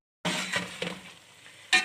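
Whole spices and chickpeas roasting in a pot with salt and whole coriander, a soft sizzle and crackle with stirring scrapes, close and alone.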